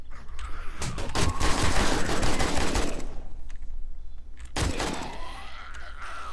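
Rapid gunfire in 7 Days to Die bursts loudly for a few seconds, pauses, then another sharp volley cracks out, with no voices.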